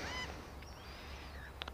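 Rainbow lorikeets calling in Australian bushland, faint high screechy chirps and a brief sharp squawk near the end, distant over quiet background noise.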